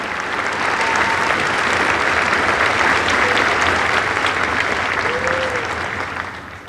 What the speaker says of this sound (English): If we could have a round of applause for all those people.